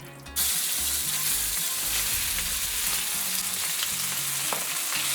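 Chicken hits hot oil in a wok and erupts into a loud, steady sizzle that crackles continuously, with faint scraping of stirring underneath, close up.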